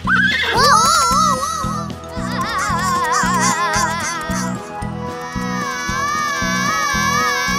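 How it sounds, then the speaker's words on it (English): A cartoon-style horse whinny rises and wavers over a bouncy children's music track, followed by another neigh. Both are loud and close, with the music pulsing steadily beneath them. "Horse."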